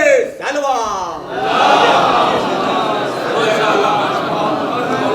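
A large crowd at a Shia majlis for a Chehlum gathering roars religious slogans back in unison, a loud sustained wall of voices following a brief lead call.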